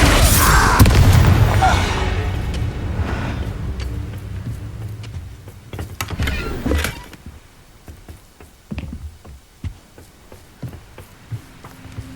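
A Confringo fire spell from Hogwarts Legacy erupts in a loud, booming blast that rolls off into a long, fading rumble, with softer thuds and pops following.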